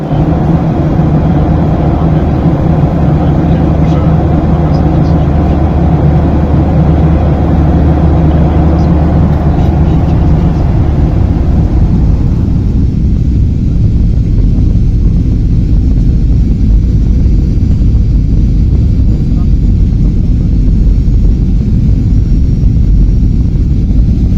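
Inside an airliner cabin while passengers board a flight to Madrid, a loud, steady low engine and air-conditioning roar fills the space, its upper hiss dropping away about halfway through.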